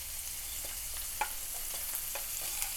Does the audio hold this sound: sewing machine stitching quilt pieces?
no